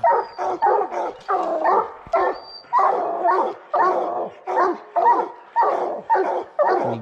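Hunting hounds bay at a bear in the North Maine Woods, a loud, close chorus of rhythmic barks and yelps repeating about twice a second with only brief gaps between them.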